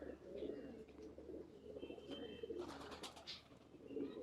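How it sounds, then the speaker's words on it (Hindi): Pigeons at Jallo Park in Lahore coo softly in a few low, rolling calls, faint and somewhat distant against quiet outdoor background with scattered chirps. "ये लक्का कबूतर आ गया जी"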